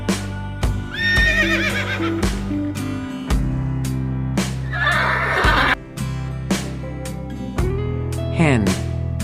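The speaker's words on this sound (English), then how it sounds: "Horse." A horse whinnies in several high, wavering neighs spread across the span, over a looping musical backing with regular beats.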